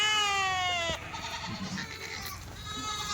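A Kathewadi sheep, a dairy breed, gives one clear, drawn-out bleat close by, followed by quieter shuffling and soft background noise.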